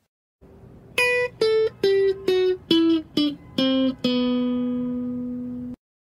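A guitar runs down the B Phrygian scale in eight crisp, evenly spaced single notes, stepping lower each time, and the final low note is held and left to ring before stopping.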